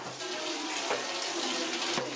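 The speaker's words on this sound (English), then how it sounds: "I guess I have to turn on the supply line first." Ozonated water from a laundry ozone generator supply line runs steadily into a bucket, a continuous close faucet-like rush with no talking.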